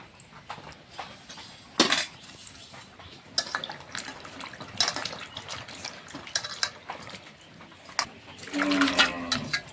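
Cut potatoes and pointed gourd being washed in water, with splashing, sloshing and handling against a metal bowl, irregular bursts close by and a pouring rush near the end.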